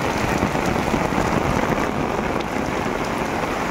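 Heavy rain pours steadily on a riverbank during the day, a dense, continuous roar of drops close by with no break or voices.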